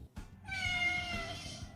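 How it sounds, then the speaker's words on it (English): A vocal street cat in a Thai city lets out one long, drawn-out meow after a brief soft sound, close and clear with no talking. "There's a very vocal cat here."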